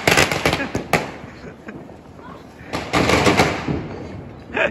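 Diwali fireworks and firecrackers set off outdoors, a rapid cluster of sharp crackling pops, a lull, then another crackling burst, fairly close, with people talking in the background.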